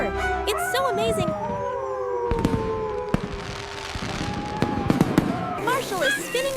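New Year fireworks in a PAW Patrol 3D animation: whistling rockets rise and sharp bangs and crackles burst repeatedly, close and loud, mixed with cartoon sound effects.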